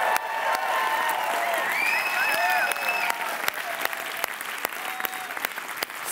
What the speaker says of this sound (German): Jubeln wir mal für die Videopodcast-Zuschauer